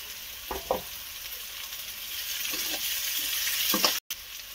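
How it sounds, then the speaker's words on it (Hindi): Chopped onion and green chillies fry in a pan being softened for a jackfruit dish, giving a steady soft sizzle with a few stirring clinks, heard close and without talk. "प्याज को मैंने काट कर लिया है, तो इसे कर लेंगे हल्का सा सॉफ्ट। ऐड कर देंगे हरी मिर्च,"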